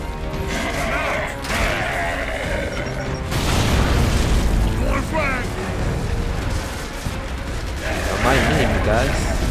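Frag grenade blasts and gunfire in the video game Gears of War 3, with heavy booms and rumbling over mechanical game sounds, while players talk over the action.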